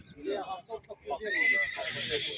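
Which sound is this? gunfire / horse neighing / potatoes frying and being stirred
horse neighing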